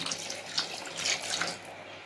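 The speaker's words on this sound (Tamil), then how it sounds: "தண்ணி ஊற்றிக்கலாம்." Water is poured while banana-leaf pot chicken gravy is being cooked, a steady close splashing stream lasting about two seconds, with no talk.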